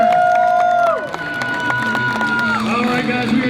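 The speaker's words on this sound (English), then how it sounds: "Let's get up for Dylan Carter." Crowd at a county fair BMX stunt show cheers and shouts for a rider, with whistles and a loudspeaker tone fading under the roar of voices.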